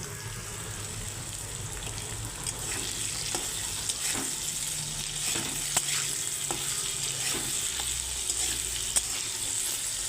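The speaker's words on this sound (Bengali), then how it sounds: "আমি আলুগুলোকে ভাজা ভাজা করে নেবো" Potatoes fry in a pan with salt added, a steady close sizzle with occasional stirring clicks throughout and no talking.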